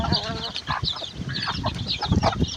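A mother hen and her young chickens, raised without an incubator, cluck and cheep close by in a short, busy stretch of overlapping calls.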